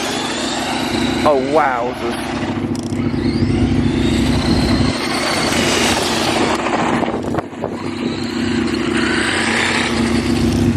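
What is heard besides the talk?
brushed-to-brushless Ramraider RC car running on 3S LiPo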